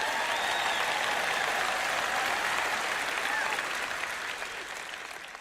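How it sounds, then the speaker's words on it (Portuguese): Church audience applauding at a Portuguese-language sermon, a dense steady wash of many hands clapping that holds strong and then gradually thins toward the end, with faint crowd voices mixed in. "Agora você pode bater palmas e fazer barulho."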